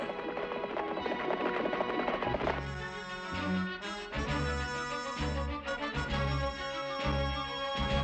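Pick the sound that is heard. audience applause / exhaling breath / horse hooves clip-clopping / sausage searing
horse hooves clip-clopping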